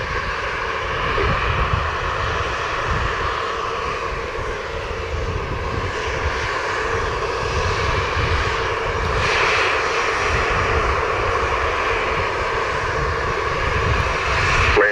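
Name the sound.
Delta Airlines plane taking off, Montego Bay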